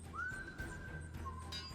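A person whistles faintly, holding one long steady note for about a second before dropping briefly to a lower tone, over a low background hum.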